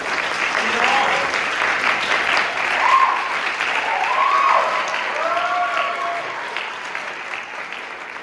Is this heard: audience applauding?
yes